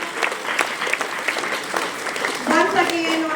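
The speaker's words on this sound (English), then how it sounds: "Give a huge round of applause." A school audience at an investiture ceremony claps in a lively, uneven burst that swells near the end, while a voice speaks briefly over the clapping.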